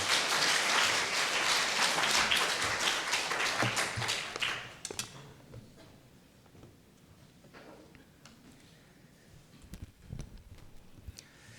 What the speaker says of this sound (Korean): 우리 큰 박수로 우리 목사님 환영하겠습니다.